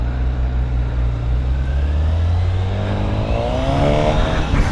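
A Honda Hornet 1000 SP motorcycle rolls slowly through a parking lot, its engine a steady low rumble that holds throughout and rises gently in pitch toward the end.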